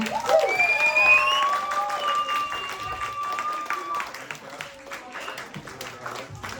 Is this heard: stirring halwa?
no